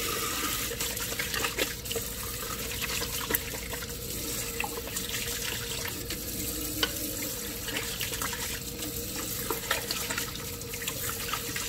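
Water runs steadily from a tap into a sink while tripe for menudo is rinsed, a continuous, fairly quiet splashing stream with small irregular spatters.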